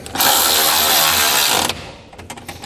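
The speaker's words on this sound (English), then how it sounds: "we'll take a half inch socket and we'll tighten those down" A power tool with a half inch socket whirs loudly and steadily for about a second and a half while driving winch mounting bolts on a 2014 Polaris ATV, followed by a few quieter clicks and clanks.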